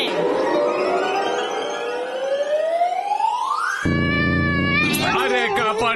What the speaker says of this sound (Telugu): నా పిల్లులు నన్నే కరుస్తున్నాయి.